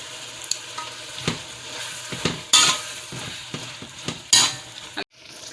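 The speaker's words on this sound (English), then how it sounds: "I'm going to give that a stir and make it cook for about 2 minutes" Chicken and bok choy cooking in a pan, stirred with clattering utensil scrapes and knocks over a sizzle, with two louder bursts of frying before the sound cuts off abruptly; no voices.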